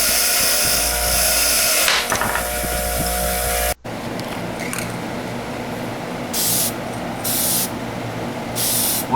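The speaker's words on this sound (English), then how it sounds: "Spray painted the wheel." Aerosol spray paint applied to a car wheel during a vehicle restoration: a loud, hissing, noisy stretch that cuts off abruptly, then several separate short hissing bursts of spray, close by, with no talking.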